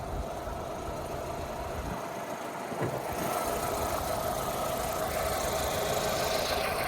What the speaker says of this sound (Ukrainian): Мотор працює чітко, рівненько,